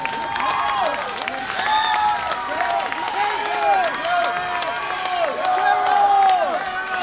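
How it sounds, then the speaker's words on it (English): An audience at a Delano High School band spring concert claps and cheers in a steady wash of applause, with scattered whoops and shouts rising over it. "Yes, clap it up for that."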